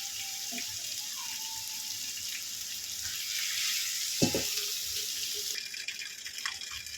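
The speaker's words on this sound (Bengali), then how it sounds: "এই তেলেই আমি সয়াবিনগুলো ভেজে নেব, হালকা করে ভেজে নেব" A hissing sizzle of soybean chunks frying in oil runs steadily, fairly quiet, with a couple of faint clinks and light stirring noises.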